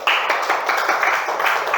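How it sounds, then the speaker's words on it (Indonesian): A class of second-grade children claps together in a classroom, a dense, steady patter of many hands lasting a couple of seconds, with no talking over it. "Kasih tepuk tangan."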